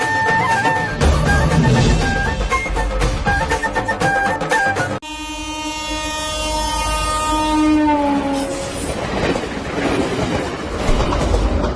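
A train horn blares loud and near in one long sustained blast, with the rattle and clatter of the rail cars passing before and after it.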